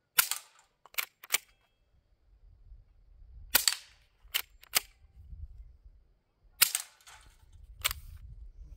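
A Hatsan Vectis lever-action PCP air rifle fires a series of sharp, loud, close shots at irregular intervals, with lever cycling and low handling rumble between them.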